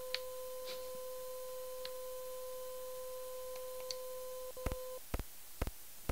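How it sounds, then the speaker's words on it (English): Morse code beeping in the Clock Tower video game, two steady electronic sine tones that hold for several seconds. Faint ticks run under them, and a few sharp clicks follow at the end. "It's Morse code."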